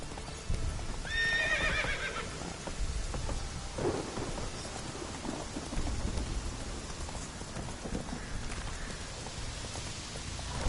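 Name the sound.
horse Roach neighing and trotting in The Witcher 3 video game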